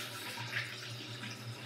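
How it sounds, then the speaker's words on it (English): Water running steadily from a tap as hands are rinsed at a sink, a soft continuous splash with a low hum beneath it. "after you put cream, you must wash your hands"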